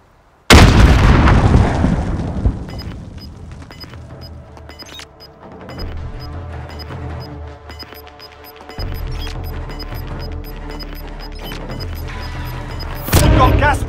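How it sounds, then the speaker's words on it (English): A grenade detonates in Call of Duty: Warzone, a loud, close blast followed by a long rumbling decay with scattered crackles and distant gunfire, then another sharp burst near the end. "Grenade out!"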